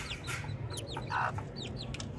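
A chicken clucking close by in a backyard pigeon and poultry loft, a quick run of short chirpy clucks over a soft background hum.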